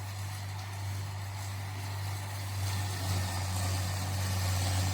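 A tractor engine running steadily while powering a hay baler outdoors, a constant low droning hum with no change in pitch, growing slightly louder toward the end.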